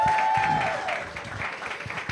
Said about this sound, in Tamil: நல்ல பலத்த கரகோஷம் கொடுங்க அவங்களுக்கு ஆக்சுவலாக.